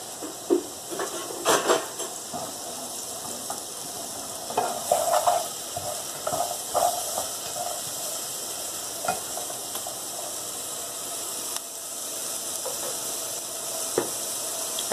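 Chopped onion and garlic sauté in a pan for calabresa sausage with potatoes, a soft steady sizzle broken by repeated stirring scrapes and clinks of a utensil against the pan.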